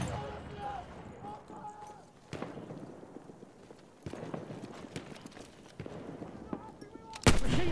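Battlefield 1 multiplayer gunfire on Xbox One: sharp shots crack in scattered bursts, some near and some farther off, with a louder blast at the end. Someone talks over the fire.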